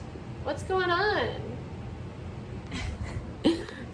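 A young male cat meows loudly with a drawn-out, wavering cry, followed a few seconds later by a couple of shorter meows, with faint background noise.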